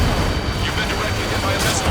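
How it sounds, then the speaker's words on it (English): A missile strikes the player's jet in Ace Combat 7 with a dense, rumbling explosion that roars loudly and steadily for about two seconds, close and unbroken. "You've been directly hit by a missile."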